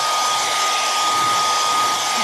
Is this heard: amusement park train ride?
no